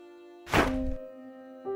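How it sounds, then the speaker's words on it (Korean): Something slams hard into a car as a single heavy thunk, a sharp close impact over a steady low hum that fades within half a second, with the hum alone continuing afterward. "무언가 차에 쾅 하고 세게 부딪히는 소리가 들렸어"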